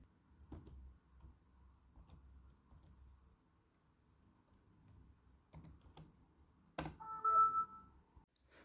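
Faint, sparse clicks of typing on a computer keyboard, scattered taps through a quiet room, followed by a brief louder electronic chime near the end.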